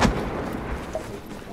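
Battlefield 4 gunfire, a single heavy boom at the start that fades into a rumbling tail, with no speech over it.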